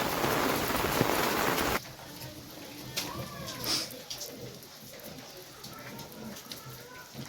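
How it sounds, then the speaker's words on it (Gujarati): A loud roar of heavy rain for the first two seconds, then it cuts to a softer steady patter with a few distant chirps. "ચાલુ વરસાદ છે"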